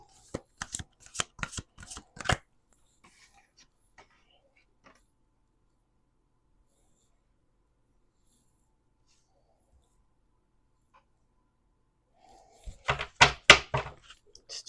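Quick riffled card shuffles in two short bursts, one at the start and one near the end, with a long quiet stretch between.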